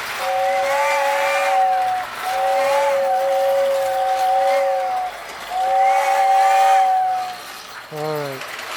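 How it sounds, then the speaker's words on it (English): Lionel O-27 toy train air whistle on a small 3-rail layout, sounding three long toots in a row followed by a short fourth blast, loud and close. "let's toot that whistle."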